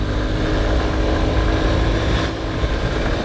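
Air-cooled engine of a Honda Hornet 2.0 motorcycle while riding, a loud, steady broadband drone blended with rushing wind noise throughout, with no talking.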